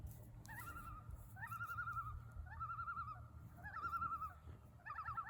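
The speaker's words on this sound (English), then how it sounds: "You guys hear that loon?" A loon calls outdoors in five repeated wavering, yodel-like cries, each a rising warble, moderately faint over a low background rumble.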